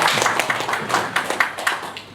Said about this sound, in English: Clap for that person again.